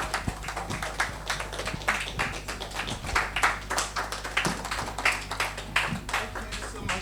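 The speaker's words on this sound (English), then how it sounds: "Please clap." Scattered audience clapping at an education summit in a hall with a low electrical hum underneath, moderate in level with uneven, pulsing bursts of hand claps over several seconds.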